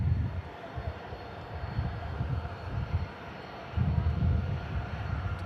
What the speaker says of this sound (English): It's another Ryanair, 737-800 series.